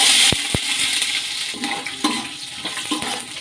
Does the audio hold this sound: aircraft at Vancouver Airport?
no